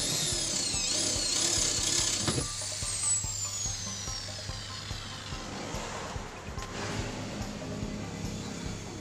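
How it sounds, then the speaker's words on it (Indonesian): A power drill whines at high pitch, its motor pitch sliding down as it bores into a car door, then stops, followed by scattered clicks and handling noises. "disinilah posisi motor lock yang akan saya bor dulu"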